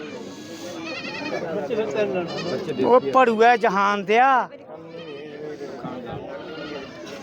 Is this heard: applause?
no